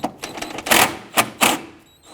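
A ratchet works a 10mm bolt loose on the back of a Toyota RAV4 front bumper, giving a few quick, sharp clicking bursts with short pauses, close and fairly quiet.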